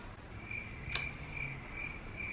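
A cricket chirping sound effect: a steady, high-pitched trill repeating in short, even pulses, with a faint click partway through and no voices.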